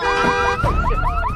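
In a zombie movie, a bus's car alarm blares loudly and alone, a piercing siren that holds a steady tone, then switches to rapid repeating upward whoops.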